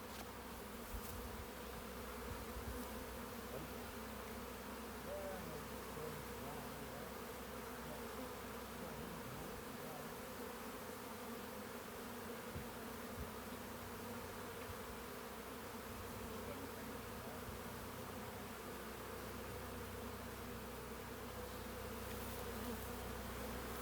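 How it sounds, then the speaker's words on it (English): Bees buzzing steadily around a honey bee hive, a dense continuous drone of many insects close by, holding at an even level with no speech. "that's possibly a wild bee in it"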